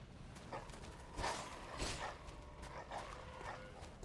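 A dog enemy in the video game Bloodborne barks and yips in several short bursts over a steady, noisy game ambience.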